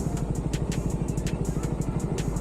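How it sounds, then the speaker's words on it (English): Suzuki-style 300SS motorcycle being ridden with a rhythmic, pulsing exhaust beat and sharp ticking pops suggesting an exhaust leak with the stock exhaust fitted, close and steady, no talk. "But I really think it sounds like exhaust leak."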